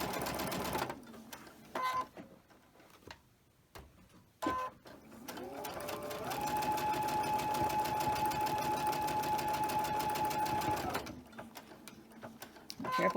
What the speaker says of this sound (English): Now we're going to take it over here and we're going to sew it just like that.